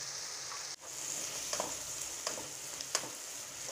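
Masala and tomatoes sautéing in a pan for paneer gravy, a soft steady sizzle with a few light spatula taps and one brief dip, fairly quiet and without voices.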